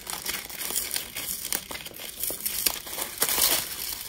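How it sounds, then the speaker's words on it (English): Tissue paper packed in a stationery subscription box is opened and crinkled by hand, producing continuous close crackling and rustling with irregular bursts of louder crumpling. "So I'm gonna open the tissue paper"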